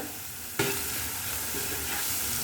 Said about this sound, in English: Give a nice mix and let the onions cook.